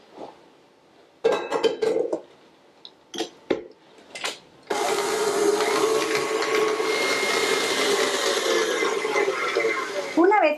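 An electric mixer creams butter and shortening for frosting, starting with a few clinks and short bursts, then running as a loud steady whir for several seconds, with a voice speaking early on.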